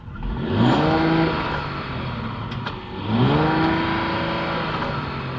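A 2024 Mercedes S580e engine heard from outside revs up twice, rising in pitch with each surge, loud and near, then settles into a steady drone.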